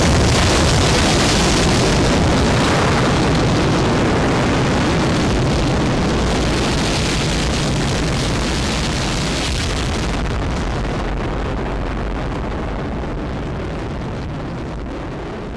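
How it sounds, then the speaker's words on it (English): A rocket ignition in Kerbal Space Program, modified with the Hot Rockets mod, opens in a loud, booming roar that gradually loses its brightness and slowly fades over about fifteen seconds. "I also changed the ignition sound."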